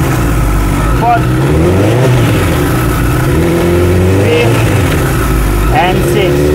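A motorcycle fitted with a quickshifter accelerates hard and upshifts through its gears, its engine note loud, close and continuous, with revs climbing and dropping briefly at each quick shift, while a voice talks over it.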